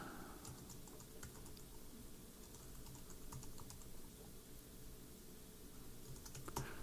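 A file name is typed on a Mac keyboard as a quiet series of light, irregular key clicks over a faint steady hum, with no talk.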